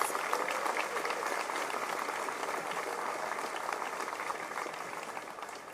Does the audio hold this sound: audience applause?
yes